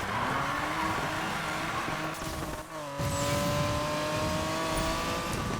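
A race-built BMW M3 in the Need for Speed Payback video game: a steady, loud engine drone with rising harmonic tones that briefly dip midway and then pull back up, with no talking.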